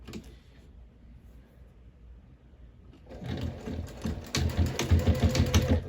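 A sewing machine stitches along the very edge of a fabric bin about 1/8 inch in, starting after a quiet stretch and running as a steady, close whirring hum that grows louder toward the end.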